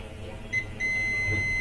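A multimeter beeps during a ground continuity check on circuit-board components near a detached shield. A thin electronic tone sounds briefly, then holds steady near the microphone over a low background hum.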